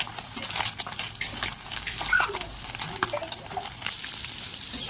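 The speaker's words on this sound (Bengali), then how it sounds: "বেগুনগুলোকে তেলের মধ্যে ভাজা করে নেবো" Long slices of eggplant frying in hot oil, a close crackling sizzle broken by irregular sharp pops and clatters as the pieces are turned, fairly loud and continuous with no talking.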